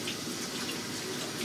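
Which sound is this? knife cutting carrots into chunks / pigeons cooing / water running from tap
water running from tap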